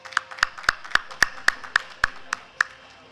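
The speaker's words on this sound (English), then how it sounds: "Ladies and gentlemen, please clap for them." Claps ring out at a SKOCH award ceremony, about ten sharp, evenly spaced hand claps in a quick steady beat, loud and close with little else around them.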